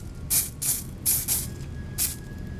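Hairspray is sprayed onto a child's artwork in four or five short, sharp hissing bursts, close and fairly loud, with brief pauses between them.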